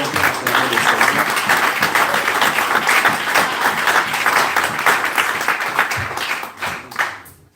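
A church congregation at Peniel Tabernacle in Montreal bursts into loud, sustained applause with rapid overlapping claps and some cheering voices, carrying on for several seconds before tapering off at the end.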